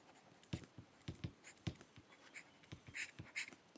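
Solutions written out by hand on paper make soft, irregular scratching strokes and taps, close and quiet, with no talking.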